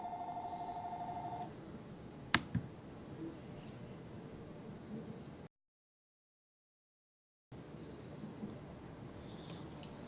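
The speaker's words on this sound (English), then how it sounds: "The phone stopped ringing." A telephone gives one quiet, trilling electronic ring lasting under two seconds, then falls silent. A single sharp click follows, then faint room noise.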